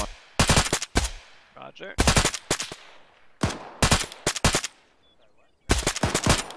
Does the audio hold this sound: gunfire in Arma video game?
yes